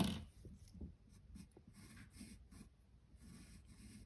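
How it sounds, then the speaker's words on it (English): Mechanical eraser rubbing on paper over a portrait drawing, a faint series of short dry scratchy strokes in an irregular rhythm, close up and alone. "It's a mechanical eraser, kind of like a mechanical pencil, but it's got an eraser."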